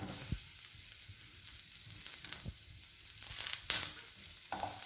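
Chiles, garlic and a quarter onion grill in a pan while cooking for carnitas tacos, giving a soft continuous sizzle with a few sharper pops and crackles, close and quiet, with no talking.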